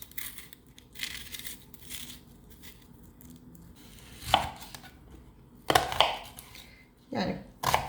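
A knife chops onions on a board while preparing tarhana, sounding as scattered close cuts with several louder bursts of rapid chopping and quieter handling between them.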